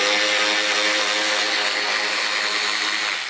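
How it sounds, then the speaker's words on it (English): A power tool whines steadily with a high, tonal hum while backing out a tight screw during the teardown of a Vespa GTS scooter, loud and close, running continuously and alone. "I'll try to use power tools to kind of make the job more efficient"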